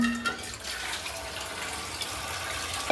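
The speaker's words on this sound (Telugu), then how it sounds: "ఇది మొత్తం కడుగుదాం కడిగి క్లీన్గా" Cashews and almonds being washed by hand in water for sweet jaggery payasam, a soft continuous splashing and swishing, close but fairly faint.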